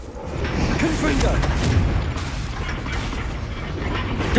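In Hogwarts Legacy, a Confringo fire spell erupts in a rumbling, booming blast, aimed at the ring at the front of a gate. The dense, crackling roar stays loud and close for several seconds before easing slightly, then swelling again at the end.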